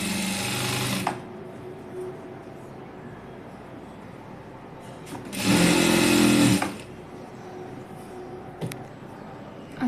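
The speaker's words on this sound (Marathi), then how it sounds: "हे शिलाई मारून घ्यायची सगळीकडे." Two loud, close bursts of a sewing machine stitching the back piece of a blouse, a short run at the start and a second about a second long midway, with quiet room noise between.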